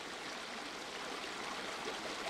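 Rushing river current pouring over a rock bar at low tide in remote northern Australia, a steady broadband roar of water, close and continuous, with no voices.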